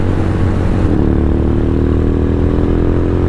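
A Venom X22R motorcycle, also called DF250RTS, rides at night with its engine droning loud and close, a steady rumbling tone that rises slightly in pitch as it holds, alone without speech.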